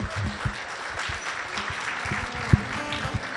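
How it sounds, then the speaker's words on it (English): Guests applauding at an Indian wedding reception, scattered clapping over room chatter and murmuring, with a few louder close claps. "So a huge round of applause for all of you."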